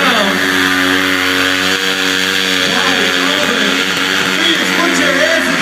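A 250 stunt motorcycle revs hard and holds a high, buzzing, wavering engine note while spinning its rear tire, loud and continuous, with an announcer talking over it at a motorcycle show stunt performance.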